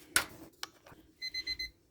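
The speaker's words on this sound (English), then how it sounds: "Timer just went off." A kitchen oven timer goes off while focaccia bread bakes, a few quick high electronic beeps near the end, preceded by faint clicks and a brief knock, fairly quiet.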